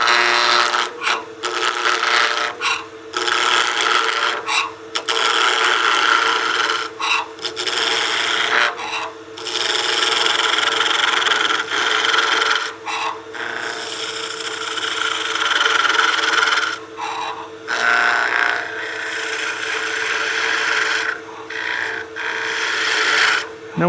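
A wood lathe turns at about 1500 RPM while a tool rounds and tapers wood for an artifact pot, giving a loud, continuous rasping scrape over a motor hum, broken by brief pauses as the cutting stops and resumes.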